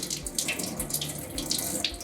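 Tap water runs steadily to rinse a Gram stain slide in a lab sink, giving a close, continuous splashing stream with small spattering fluctuations and no speech.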